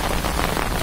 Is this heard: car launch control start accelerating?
no